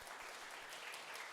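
A church congregation applauds during a worship service, steady, even clapping that fills the whole moment, heard from a distance and fairly faint, with no voices over it.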